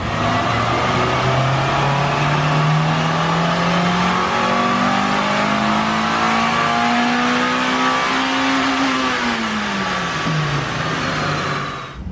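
A 1997 Honda Del Sol with its factory B16 engine revs on a dyno, with a loud, close, sustained engine note that climbs steadily in pitch for about nine seconds before dropping off as the run ends.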